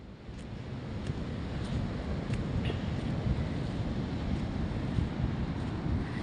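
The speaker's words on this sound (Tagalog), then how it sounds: "Kaso lang ngayong panahon po na to talagang malalaki ang alon." Big waves from the South China Sea roll onto the beach at Cabangan, Zambales, as a continuous low roaring surf mixed with wind buffeting the microphone, steady and unbroken with no voices.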